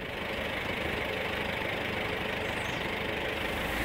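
A Volkswagen Saveiro pickup engine runs after gearbox removal and seal replacement, a steady close idle with a fine rapid knocking clatter throughout, no voices over it.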